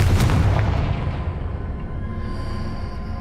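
A Confringo explosive spell in Hogwarts Legacy booms at the start, a heavy blast whose rumble slowly decays into a quieter tail, with no talk over it.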